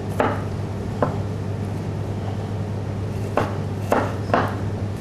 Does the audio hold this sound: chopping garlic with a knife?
yes